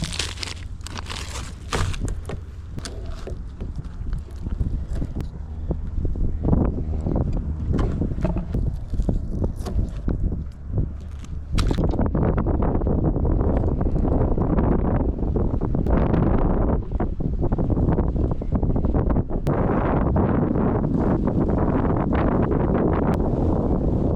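Strong wind while fishing next to an airport buffets the microphone in heavy, continuous gusts, growing louder and harsher halfway through, with a faint wash of water beneath.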